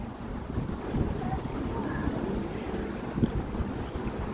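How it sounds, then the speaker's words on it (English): Strong wind gusts along a city street near a lake in Chicago, a continuous loud roar buffeting the microphone with no talking. "Elm Street is pretty windy here, so the wind's going to pick up because we're near the lake"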